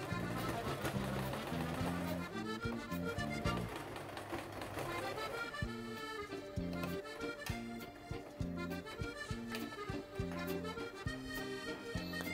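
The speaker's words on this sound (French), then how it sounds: "Ensuite je couds de l'autre côté pour bien fixer la boucle" Sewing machine stitching to fix a buckle, its rapid mechanical whir running in short bursts beneath loud background music.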